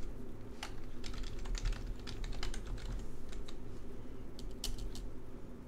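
A computer keyboard is typed on in a steady run of fast, close, distinct key clicks with small pauses between bursts, alone with no speech.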